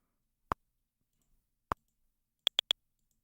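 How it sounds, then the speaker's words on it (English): Sharp, hard clicks like two marbles knocking together ring out alone against silence: two single clicks spaced about a second apart, then a rapid burst of three. "it kind of sounds like two marbles clicking together"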